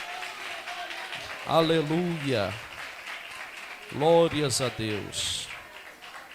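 A church congregation claps along during a worship service, a steady wash of applause running beneath a voice calling out praise and sung vocal phrases.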